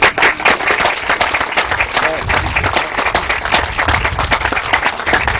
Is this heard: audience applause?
yes